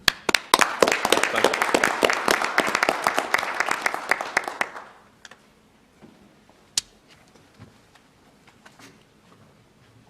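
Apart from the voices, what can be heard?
applause at a county commissioners' meeting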